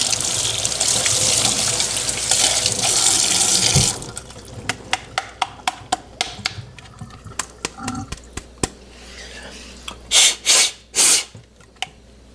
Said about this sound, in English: I think just flushing it out with some water will do